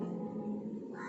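A mother cat lets out a drawn-out, low yowl during a fight, tense and sustained, close by and fairly faint.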